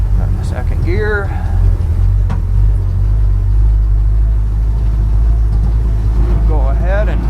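A 1957 Power Wagon truck engine rumbles loudly and steadily as it drives off-road, with a voice briefly heard over the low drone near the start and end.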